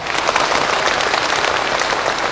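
Warm audience applause at a Cantonese opera television event, dense continuous clapping from a large crowd, loud and even throughout.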